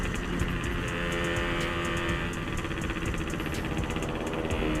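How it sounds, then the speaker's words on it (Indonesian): Yamaha RX King two-stroke motorcycle fitted with an Altech C20 muffler, its exhaust running steadily with a rapid, crackling rhythmic pulse, loud and close throughout with no talking. "Dengerin tuh suara knalpotnya, kemarin kan beda, kalau sekarang udah mantap."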